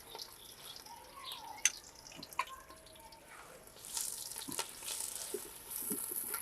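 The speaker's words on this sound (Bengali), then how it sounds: "গরম হয়ে গেছে, দিয়ে দিচ্ছি এখানে প্রায় 1 কাপের মতন পেঁয়াজ।" About a cup of onions drops into a hot pan over a firewood fire on a rooftop, a soft hiss swelling into steady sizzling after a few faint clinks of cookware.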